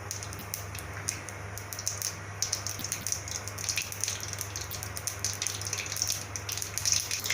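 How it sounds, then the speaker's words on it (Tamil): Mustard seeds crackle and spit in hot oil while a raw banana poriyal is being cooked, giving a steady close sizzle with dense, irregular pops throughout. "இப்போ கடுகு போட்டுக்கலாம். கடுகு நல்லா பொரிஞ்சு வரட்டும்."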